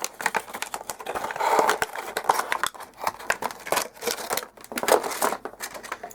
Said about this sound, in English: there is a little bit of tape which you are going to have to either rip or cut if we open up the box